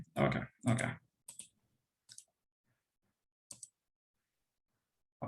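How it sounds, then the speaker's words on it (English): Keyboard typing clicks in sparse, irregular bursts: two louder clusters at the start, then scattered single taps separated by long quiet gaps, close and alone. "I think they were typing when I was answering"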